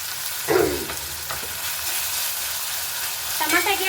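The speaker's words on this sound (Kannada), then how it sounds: "ಮೆಂತ್ಯ ಸೊಪ್ಪು ಹಾಕ್ಕೊಂಡು ಸ್ವಲ್ಪ ಎಣ್ಣೆಯಲ್ಲಿ ಫ್ರೈ ಮಾಡಿಬಿಟ್ಟು ಹಾಗೆ ಟೊಮೆಟೊ ಹಾಕ್ಕೊಳ್ಳಿ" Fenugreek leaves and tomato frying in oil in a pan, a steady close sizzle with a few bursts of stirring and crackle, with no talking.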